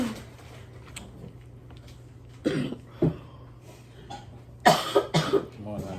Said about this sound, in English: don't stop that cough